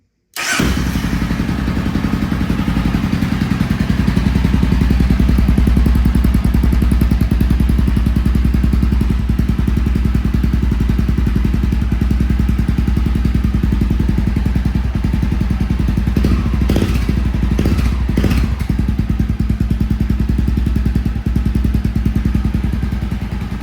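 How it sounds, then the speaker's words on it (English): A 2024 Honda XR650L custom build motorcycle starts up and runs steadily through its aftermarket exhaust, a loud, close, continuous low throbbing idle with a few sharper blips near the end and no talking. "I will kick it on for you guys so you can hear the exhaust"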